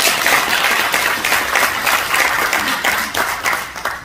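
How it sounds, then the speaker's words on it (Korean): Steady applause fills a formal ceremony hall as an audience claps continuously, loud and close, with no speech over it. "이분들께 먼저 박수를 드리는 게 옳다고 생각합니다"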